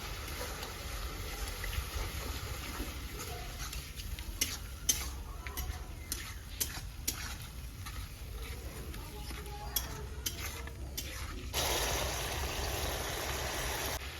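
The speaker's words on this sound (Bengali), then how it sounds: "গ্রেভিটা প্রায় হয়ে আসছে বন্ধুরা এখানে টক দই দিয়ে দেবো একশো দেড়শো গ্রাম টক দই" Prawn curry gravy simmering in a pan with sour yogurt going in, heard as a low, continuous sizzle under a steady background hum, with scattered clicks and taps of stirring.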